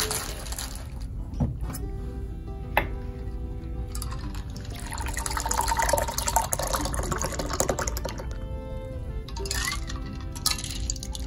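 A spicy habanero cocktail pours from a shaker into a glass, a steady trickling liquid stream with light splashes and clinks, fairly close, with no speech.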